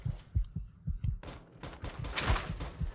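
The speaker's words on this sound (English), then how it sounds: "You can hear my heartbeat." A steady thudding heartbeat from the player character in Fallout 3, low rhythmic beats about two per second, followed by loud bursts of in-game gunfire over the pulse.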